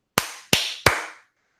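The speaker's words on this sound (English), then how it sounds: "Clap your hands." Three sharp hand claps in an even, fairly quick rhythm, each close and crisp with a short ringing tail in a quiet room, then silence, no talking.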